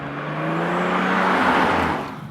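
A Toyota GR Supra with a six-cylinder engine drives through winding corners, its engine note rising in pitch as it accelerates, loud and close, then easing slightly at the end.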